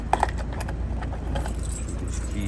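Keys jangling inside a 2020 BMW 330i, a few quick metallic clinks at the start followed by lighter rattles over a low steady cabin hum.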